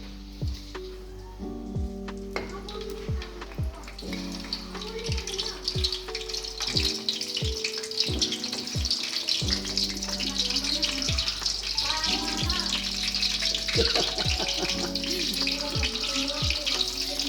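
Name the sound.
frying saba bananas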